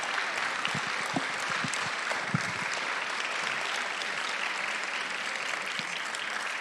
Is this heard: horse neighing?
no